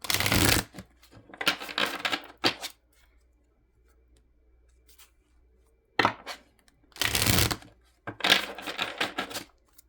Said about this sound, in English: Oops, that was a terrible shuffle.